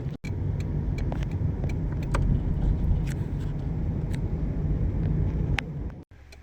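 A 2000 Toyota Camry drives along a quiet road while bedding in new rear brake pads: a steady, fairly loud car engine and road rumble continue without a break, with a brief dip near the start and another near the end.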